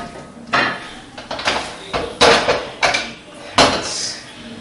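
Salt cod with eggs and shoestring potatoes is transferred into a serving dish, giving a series of clattering utensil-on-dish knocks and scrapes at irregular intervals, fairly close and moderately loud.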